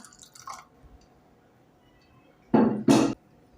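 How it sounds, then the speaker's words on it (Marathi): Water splashes into a mixer jar holding ground coconut mixture in two short, loud pours after a quiet stretch. "पुन्हा थोडं पाणी घालूया"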